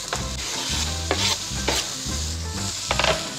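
Onions frying in bacon grease and butter for clam chowder sizzle steadily in a pot, with rhythmic stirring scrapes repeating roughly every half second, close and clear.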